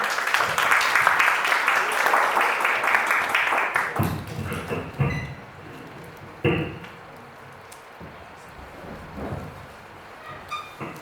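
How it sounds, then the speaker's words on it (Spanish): Applause from a seminar audience on human rights and migration, loud dense clapping for about four seconds, then thinning into scattered claps and room noise with a few louder knocks. "recibamos con un aplauso"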